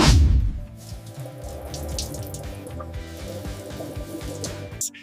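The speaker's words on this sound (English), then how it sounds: "Running water wherever you go." Tap water runs steadily from a kitchen faucet inside a 2026 Toyota motorhome, a close, continuous splashing stream into the sink that starts with a louder gush and stops abruptly near the end.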